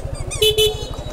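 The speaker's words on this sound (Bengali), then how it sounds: "এখানে কেউ কারো হর্ন শুনে না।" Car and motorcycle horns honk in congested Dhaka traffic, two loud close blasts standing out over a constant rumbling engine idle and fainter horn toots.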